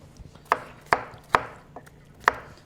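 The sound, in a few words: cubing peeled potato with a knife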